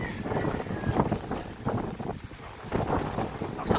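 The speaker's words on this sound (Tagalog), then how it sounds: "Lakas ang hangin." Strong wind buffets a boat as a storm builds, gusting roars and rumbling microphone buffeting rise and fall in uneven surges with no voices.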